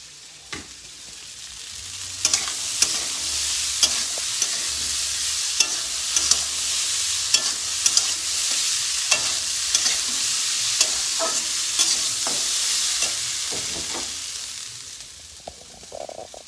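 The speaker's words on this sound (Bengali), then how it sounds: "পেঁয়াজ লঙ্কা দিয়ে লেড়ে নেবো" Chopped onion and chili stirred and frying in a kadai, a steady close sizzle broken by repeated scraping strokes of the spatula throughout.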